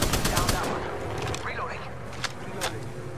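Rapid gunfire bursts in the video game Apex Legends, loud and close at the start, then sporadic single shots with a whizzing sweep, voices chattering over the action.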